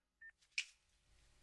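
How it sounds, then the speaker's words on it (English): Phone keypad being dialed: a single short electronic tone, followed by two faint clicky blips, quiet and brief against near silence. "Pulling out my phone. I'm dialing 9."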